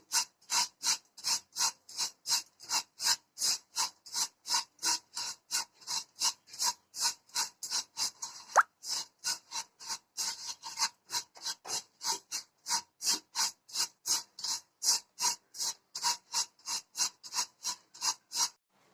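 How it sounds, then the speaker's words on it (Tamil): Vermicelli dry-roasting in a pan over a medium flame, with steady rhythmic scraping and rasping strokes repeating about twice per second throughout, fairly close and even in loudness. "நல்லா மீடியம் ஃப்ளேமில் வச்சுட்டு லேசாக வறுத்து எடுத்துக்கலாம்."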